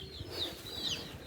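Chickens and chicks at an open farm raising about 400 birds, giving a couple of short, high chirps and faint clucks over low rustling background noise.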